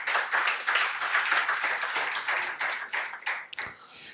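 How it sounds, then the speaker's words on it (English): A conference audience at a power-sector panel dialogue applauds the panelists, a dense burst of clapping that holds steady, then thins into scattered, sharper claps before fading. "So please give my panelists a round of applause."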